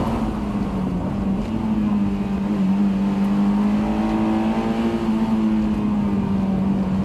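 Honda S2000 engine cruising at low revs around 2,000 rpm, a steady droning hum that rises and falls only slightly, loud and continuous with no talk.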